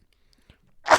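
One sharp sneeze bursts out at the end after near silence, preceded by a couple of faint soft clicks.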